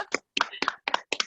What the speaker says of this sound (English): let's hear, so we could hear some applause